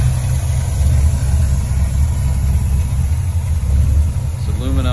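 A 1949 Chevrolet 3100 hot rod with a 350 small-block V8, Edelbrock 4-barrel carb and Flowmaster mufflers idles with a loud, steady, deep rumble close by, and someone talks briefly near the end.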